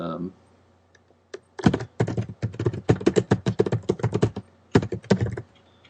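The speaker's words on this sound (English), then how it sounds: "we'll type in a password, which will just be demo for this" Rapid typing on a computer keyboard while entering a password into a website setup form, with dense bursts of key clicks in an uneven rhythm, close and fairly loud, after a brief moment of speech at the start.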